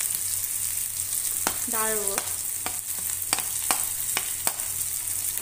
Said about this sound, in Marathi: व्यवस्थित मिक्स करून त्याला व्यवस्थित असं तळून घ्यायचं छान।